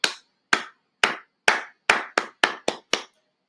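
A round of applause as hands clap nine times, sharp, close and loud, each clap separate and spaced about half a second apart before quickening slightly near the end.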